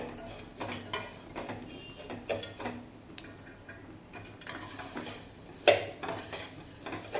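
Dry fruits and vermicelli sautéed together in ghee for semiya kheer, with a spatula clinking and scraping against the pan in irregular taps under a faint sizzle, close by and with no voices.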